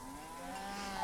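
A cow moos in one long, drawn-out low call, steady and fairly close throughout the second.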